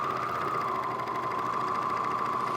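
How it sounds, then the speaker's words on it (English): A serger stitches quilt pieces together in a steady, close mechanical whir that runs without a break, with no talking. "So now I'm ready to serge my quilt pieces together."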